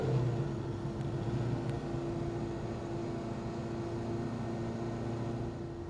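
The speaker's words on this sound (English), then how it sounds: "I wouldn't normally downshift into first gear driving the car, but just to demonstrate it" A 1969 Alfa Romeo GTV 1750 runs quietly from inside, a faint, steady engine drone with a soft shift in pitch near the start as it drops into first gear.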